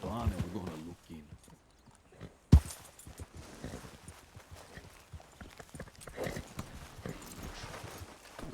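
A horse's hooves clip-clop in sparse, uneven knocks, faint and mixed with a sharp thump partway through. A person talks quietly over the steps.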